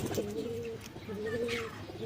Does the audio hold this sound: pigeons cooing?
yes